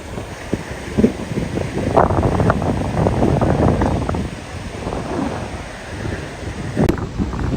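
Wind buffets the microphone on Cox's Bazar beach while sea waves roll and wash in underneath, a steady loud broadband rush with a few sharper gusts throughout.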